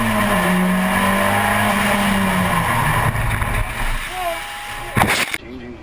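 Car engine humming steadily while driving in the horror game Outlast, with a radio-style voice speaking over it and a brief clatter near the end.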